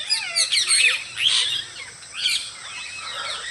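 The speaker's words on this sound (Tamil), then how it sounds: "அந்த குருவி கத்துற சவுண்டெல்லாம் உங்களுக்கு கேட்கும்னு நினைக்கிறேன்." Small birds, sparrows among them, chirp in a forest with repeated bright, twittering calls. The calls come in several clustered bursts over steady quiet background ambience, fairly close and moderately loud, with no talking.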